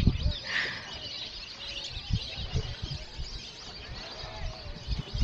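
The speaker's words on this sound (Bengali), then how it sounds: "ওই দেখো মাস্ট পাখির আওয়াজ" Birds call and chirp around the water at Ranjandih Dam in Purulia on a winter picnic, small tweets scattered over a busy background of people talking and moving nearby.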